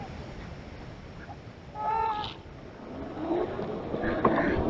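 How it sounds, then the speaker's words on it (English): Geese honk out in the dark at night, a few short nasal calls from a distance over a low rumbling background, with a second burst of fainter honking a moment later. "Can you hear the geese?"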